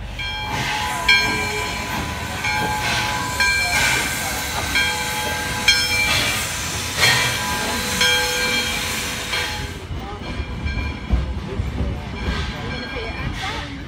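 Riding a train during a Zion trip, with the loud rumble and clatter of the cars, hissing and whistle-like tones throughout, while people talk over it.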